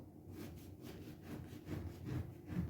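Sawing strokes of a knife slicing through a loaf of Trabzon-style bread, a run of soft rasping pulls that grow slightly louder and closer toward the end, with no talking.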